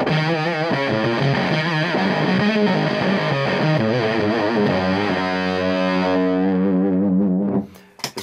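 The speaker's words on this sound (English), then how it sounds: "it's basically a square wave distortion pedal" An electric guitar played through a Dirty Boy Octo '59 square-wave octave distortion pedal into a hand-wired high-watt 2x12 combo; loud, buzzy sustained notes and chords ringing out alone, then cutting off near the end.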